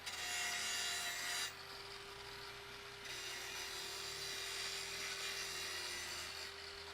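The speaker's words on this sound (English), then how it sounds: "this angle grinder takes way too long to start up" An angle grinder sound effect for a video game plays as a continuous, harsh abrasive whine with a steady tone, shifting abruptly in texture several times as segments change, with no speech.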